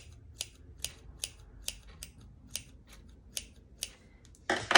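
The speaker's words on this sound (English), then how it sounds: "And then I take my scissors and I just snip randomly." Scissors snip through the layered fabric of a rag quilt in about ten sharp, close cuts at a quick, slightly uneven rhythm, ending in a louder rustle.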